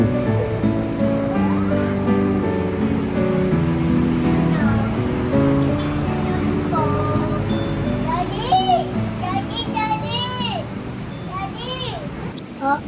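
Sea waves on Dingalan beach in Aurora wash in a steady, constant surf, with children's voices and other talk rising over it.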